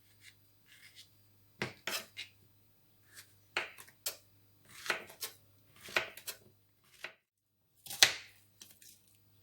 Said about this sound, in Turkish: Önce malzemelerimi doğruyorum.